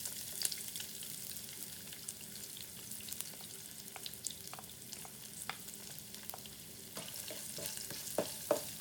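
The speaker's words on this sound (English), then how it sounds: "I'm going to add in the garlic, asafoetida, and turmeric powder." Garlic, asafoetida and turmeric powder sauté in a pan for tomato thokku, a faint steady sizzle dotted with light spoon taps and stirring clicks, with nobody speaking.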